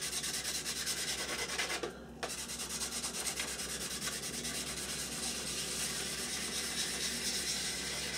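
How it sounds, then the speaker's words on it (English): A sanding stick rubs steadily across the wing of a He 219 scale model aircraft, a continuous close, dry scratchy rasp with a brief pause near the two-second mark, no voices. "With various grades of sanding stick."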